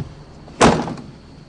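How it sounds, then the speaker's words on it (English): A car door slams shut once, a single loud, close thump that rings briefly and fades within a fraction of a second, with no talk over it. "Slam the door."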